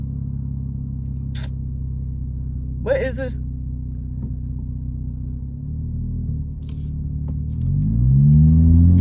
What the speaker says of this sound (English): What is this truck doing?